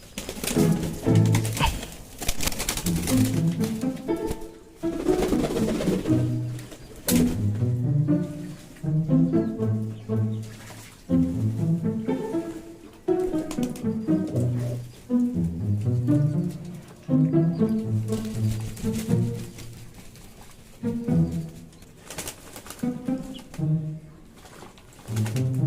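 A dove and pet pigeons coo in repeated, throaty, rhythmic bursts close by, with short pauses between calls and no talking.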